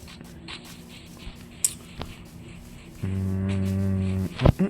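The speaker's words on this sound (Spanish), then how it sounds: "Están las condenadas vacas." A cow in a video game moos once, a loud, steady, low droning call lasting over a second, following scattered soft clicks and taps, with a couple of sharp knocks right after.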